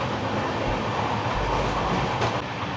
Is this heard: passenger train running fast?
yes